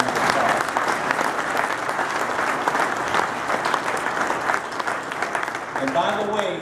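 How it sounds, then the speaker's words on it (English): An audience at a cinema ribbon-cutting applauds the new general manager, sustained dense clapping throughout, with a voice starting to speak as the applause trails off at the end. "Please give him a great round of applause."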